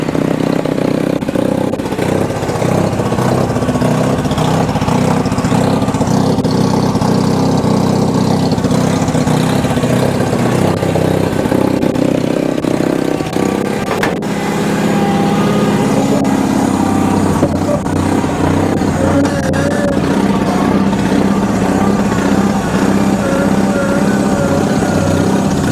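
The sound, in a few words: Bolens HT20 garden tractor engine running with gear noise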